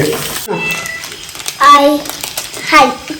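A house cat meows in a home kitchen, two drawn-out meows near the middle and end, heard over a person talking at the start.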